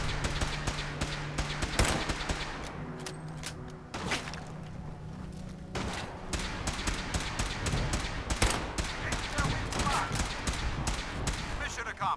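Action rifle firing in the Fallout 4 video game, a run of sharp repeated gunshots and thuds with irregular rhythm, some bursts close together, under occasional talk.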